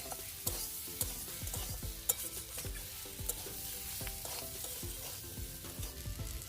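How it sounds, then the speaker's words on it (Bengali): Egg, raw jackfruit pieces and potato stir-fried with spices in a pan sizzle steadily, with a utensil scraping and clinking in a repeated rhythm, close and quiet, with no talking. "আগে থেকে যে এঁচড়ের টুকরো এবং আলু ভাজা ছিল সেইগুলো দিয়ে মশলার সঙ্গে কষে নেব দুই থেকে চার মিনিট"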